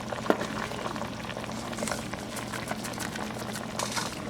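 Pork stew with cassava simmering in a covered pot, a steady low bubbling and faint sizzle continuing evenly throughout.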